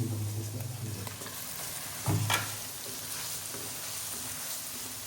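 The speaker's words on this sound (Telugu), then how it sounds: "ఉల్లంతా కొంచెం చక్కగా ఉడకాలి కాబట్టి మంచిగా వేపుకోండి" Steady frying sizzle of onions in a pan for a fish curry gravy, with a brief scrape of stirring partway through; no voices.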